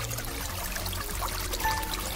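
Water poured in a steady, continuous stream, close and moderately loud, with a brief higher tone near the end and no talking.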